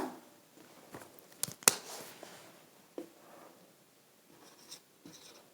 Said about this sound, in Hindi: मैं आपको यहाँ पर कहाँ लिख के बताऊँ, यहाँ लिख दूँ, चलेगा ना।